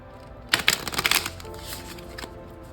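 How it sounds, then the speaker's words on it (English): Tarot cards shuffled by hand in a quick run of crisp riffling flicks, near and fairly loud, lasting about a second before settling into quiet room tone. "Let's shuffle the cards again and see what else we have and what else is coming to you this August."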